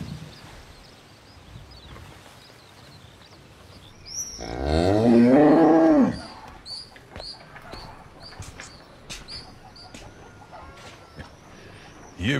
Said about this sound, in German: Kühe sind toll.